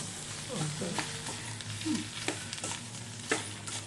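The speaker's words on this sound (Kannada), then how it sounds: "ಈಗ ತಿರುವಿ ಹಿಂಗೆ ಚಮಚಲಿ ಒತ್ತಿ ಒತ್ತಿ" Potato palya being stirred and pressed with a spoon in a pan, giving repeated scraping and soft mashing strokes over a low steady sizzle, close up.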